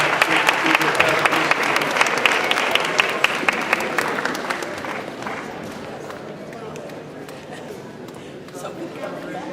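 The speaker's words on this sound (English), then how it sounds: "Let's give him a round of applause" An audience at a school student recognition ceremony applauds a local pastor, and the dense clapping starts strong and then slowly fades out. A voice speaks over part of it.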